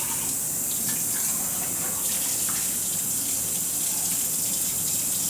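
Tap water runs steadily into a sink while a dirty cup is washed, a continuous close splashing rush with no pauses.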